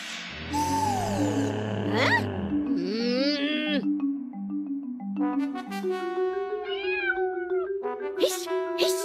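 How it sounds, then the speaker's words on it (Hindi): A black cartoon cat meows several times in a row, the drawn-out cries rising and falling in pitch, with other voices and sounds between them. "हिश, हिश, अरे भाग कलूटी बिल्ली।"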